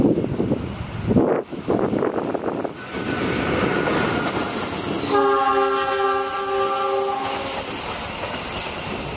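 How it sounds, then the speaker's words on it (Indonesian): An Argo Dwi Pangga New Generation and Luxury passenger train passes close by, a loud rumble and rush of wheels and wind, with a long steady multi-tone horn blast sounding through the middle of the passing. "kereta api Argo Dwi Pangga New Generation dan Luxury ya"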